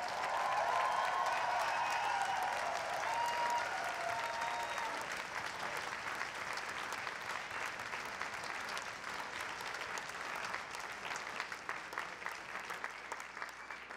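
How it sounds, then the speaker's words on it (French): A concert audience applauds the arranger and conductor, a thick wash of clapping that starts full and slowly thins and fades toward the end, heard from a distance in a hall. "On pourrait continuer la main d'applaudissement pour notre personnel technique"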